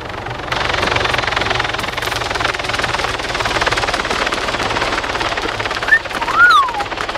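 A helicopter in the video game ARMA 3, during a King of the Hill infantry match on the Paros map, drones steadily and loudly throughout. Bursts of gunfire crackle over it, and a rising whistling tone sounds near the end.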